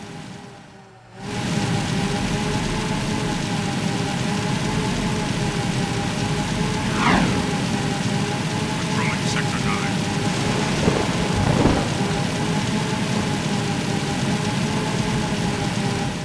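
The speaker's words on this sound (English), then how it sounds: "There's a storm coming. No, the storm is here." Steady rain from a thunderstorm in the video game Jak II sets in abruptly and then hisses evenly and loudly. A few faint swells ride on the constant wash, with no talk over it.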